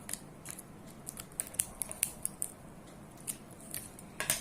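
Scissors snipping paper for a homemade smartphone projector, a string of short crisp cuts close by at an uneven pace, with a louder cluster of snips at the end.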